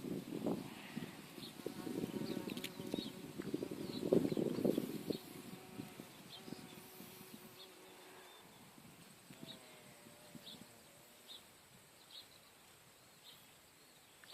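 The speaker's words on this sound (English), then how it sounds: "And there's bees here too." Bees buzz softly and steadily in an outdoor flower garden, a low hum that is stronger early on and fades toward the end, with faint birds and rustling in the background.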